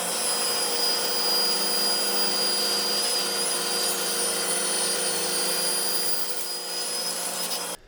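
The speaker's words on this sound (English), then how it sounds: "I can run this through the table saw, and I'll end up with a perfect taper" A table saw runs steadily up close, its blade whining with a constant high hum as it cuts a taper along a wooden table leg held in a jig, then cuts off abruptly.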